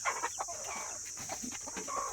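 Chickens clucking in short, scattered calls against a steady high hiss, several birds close by with no talk.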